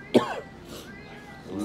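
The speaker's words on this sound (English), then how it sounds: "Why would you cough?" A single sharp cough from a sick young man at a Denny's diner at 2 a.m., up close and brief, followed by quiet room noise and faint voices.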